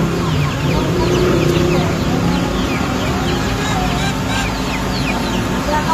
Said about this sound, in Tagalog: Nandito ako sa farm. Lumaki ako sa farm. Yan. Kaya, maraming manok.